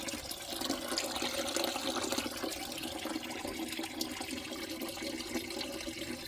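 Water runs steadily into a toilet bowl holding flushable wet wipes, a continuous close rushing and splashing that stays even throughout with no voices.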